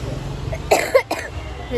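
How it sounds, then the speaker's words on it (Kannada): Two short, sharp coughs close by, one right after the other, over a low engine-like rumble. "ಕೆಮ್ಮು ಸ್ಟಾರ್ಟ್ ಆಗೋಯ್ತು"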